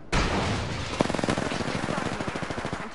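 Rapid automatic gunfire in a PS4 shooter, one sharp opening shot followed by a fast, evenly spaced burst of loud close shots that keeps going to the end. Faint speech sits underneath.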